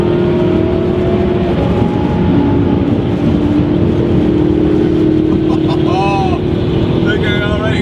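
An Audi R8 accelerates in a drag race, a loud, close, continuous engine roar holding a steady tone with faint rising whines near the end.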